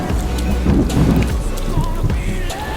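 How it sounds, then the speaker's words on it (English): Heavy rain pours down outside at night near Lake of the Ozarks, a loud steady wash with a low rumble beneath and no voices. "I don't know if you can hear, but it's just absolutely pouring out"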